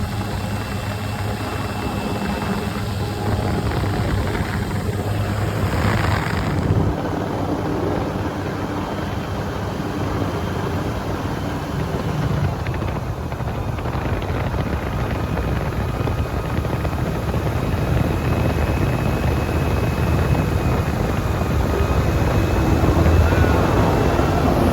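An airboat runs on a river at Matewan, West Virginia, its engine and propeller giving a loud, steady, continuous drone throughout.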